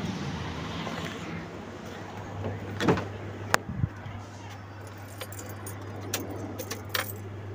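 Car keys jingle and clink softly inside a car before the ignition is switched on, in brief scattered bursts over a low steady hum, with faint voices in the background.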